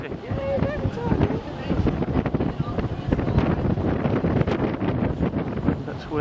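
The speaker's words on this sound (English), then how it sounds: "It is one hell of windy." Strong wind buffets the microphone in a constant roaring rumble high up in New York, with water and a boat's motion audible underneath.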